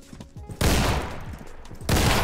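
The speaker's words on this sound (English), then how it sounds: "You jumped twice, I shot you twice." Loud bursts of gunfire in Roblox Criminality, a dense crackling volley of shots, then a quieter spell before another heavy burst. Close and harsh, with no talk.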